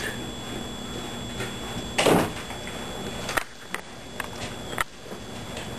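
A door swings shut with a single clear thump during a home birthday gathering, followed by a few smaller knocks and clatters against steady room background.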